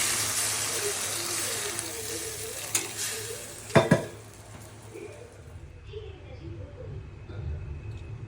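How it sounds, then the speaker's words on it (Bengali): Water poured into a hot pan of cooking rajma (kidney bean) dal gives a steady broadband hiss and sizzle, with a sharp splashing burst near the middle before the sound settles to a quieter simmer. "এখন জল দিচ্ছি"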